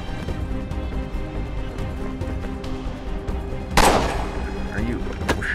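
Gunfire in Assassin's Creed 3, a sharp loud shot cracking out over ongoing game noise and background sound, followed later by another brief crack.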